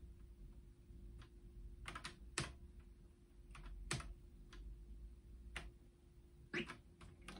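Keys on a ZX Spectrum are pressed during play of the game Glug Glug: sparse, irregular, faint clicks scattered over a steady low background hum.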